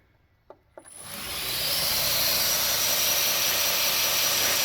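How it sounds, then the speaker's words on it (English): A G6 bolt-together grinder motor clicks on twice, then spins up into a loud, steady whirring roar that holds close and constant to the end. "This is a new batch of grinders, and I turn it on here."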